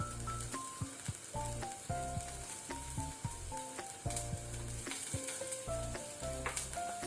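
Chopped onion, garlic and green chili fry in a pan, a constant crackling sizzle with stirring clicks, heard quietly beneath steady background music.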